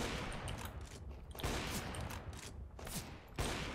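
Bursts of rapid gunfire in CS:GO come in several sharp volleys, loud and close, separated by brief lulls.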